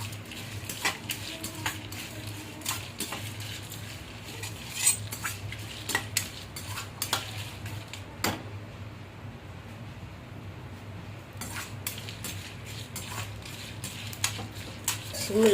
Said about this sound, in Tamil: வெறும் வடச்சட்டில் எண்ணெய் ஊற்றாமல் வறுக்கணும்.